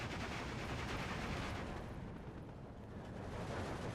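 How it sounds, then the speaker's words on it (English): Mortar rounds hit during a Steel Division 2 battle, buried in a continuous dense roar of explosions and gunfire that dips briefly midway, with no voices. "mortar's getting some hits."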